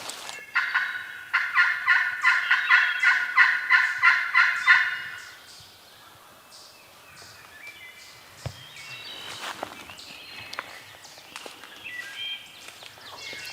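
A wild turkey gobbles in a rapid rattling burst at moderate distance from beyond a ridge in Ohio, followed by quieter rustling and faint outdoor sounds.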